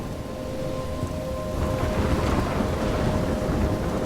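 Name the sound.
thunderstorm in video game Life is Strange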